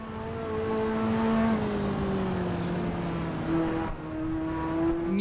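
A Ferrari F40 in the Assetto Corsa racing game on the Nordschleife revs hard and loud, its engine note climbing and dropping through quick gear shifts with no voices.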